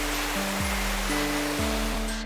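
Great Falls at the lower lakes of Plitvice in Croatia, heard as a steady, loud rush of falling water that fills the clip, with low tonal sounds drifting underneath.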